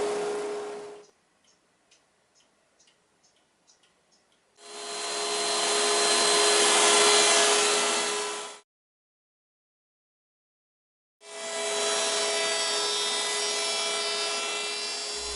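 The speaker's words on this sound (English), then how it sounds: "this machine does a wonderful job sanding an inside curve" A spindle sander works an inside curve on a wooden clock part, a steady whirring grind in two long loud runs separated by silence, preceded by light clicks and taps.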